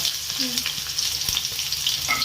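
Garlic and onion frying in oil in a pan, a bright continuous sizzle with scraping stir strokes and a couple of clinks, close and fairly loud, no speech.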